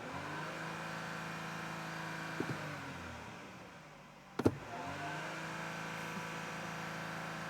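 The engine of an Audi Q5 with a turbo boost fault code runs at idle and is revved once, a low steady hum that dips, then rises with a sharp burst before settling back, heard without talk.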